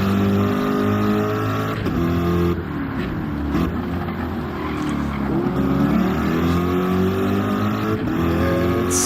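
Corvette race car in a GT4 Cup racing video game, engine droning loud and steady as it climbs uphill, with pitch shifting through gear changes and no talk over it.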